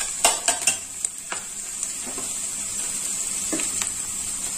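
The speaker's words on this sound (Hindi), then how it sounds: "हमारी सब्जी भुन गई है" Chopped vegetables fry in a pan for vegetable rava upma, a soft steady sizzle under several quick scraping stirs and taps of a spoon near the start, then a lone stroke later on.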